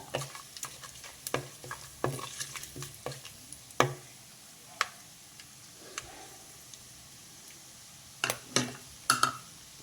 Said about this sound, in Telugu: ఇవి కొంచెం ఆయిల్లో వేగాలండి.